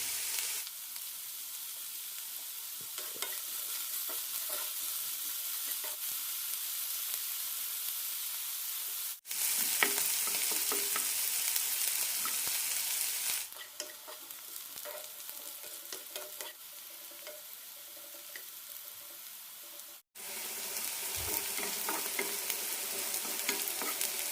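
Bitter gourd pieces fry in a pan with a steady, close sizzle, salted and stirred until lightly browned. Scraping stirs come and go, with two brief pauses in the hiss and no voices.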